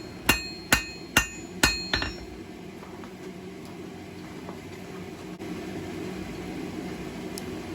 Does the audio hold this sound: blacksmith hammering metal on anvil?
yes